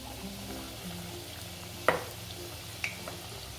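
Kat vada fritters sizzling in hot oil, a steady soft frying hiss with a couple of sharp splatter pops, quiet and close with no talk.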